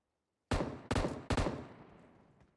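Three loud, close gunshots from PUBG Mobile ring out in quick succession, each leaving a long reverberant tail that fades after the last shot, with no talk over them.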